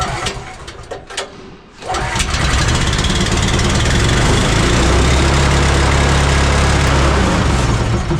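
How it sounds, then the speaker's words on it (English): A repaired engine cranks with a few clunks and brief pauses, then catches and runs loud and steady, settling into a rough, continuous idle close by. "Or that I can get this engine running."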